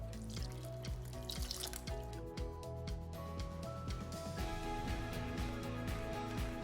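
Water trickles and drips steadily into a bowl as it is added to piroshki dough, a close, continuous liquid sound with light splashes and faint background music.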